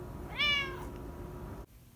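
A pet cat gives a single clear, close meow at home, rising and falling over a faint background hum, followed by a soft click.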